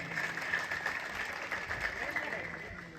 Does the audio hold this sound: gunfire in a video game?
no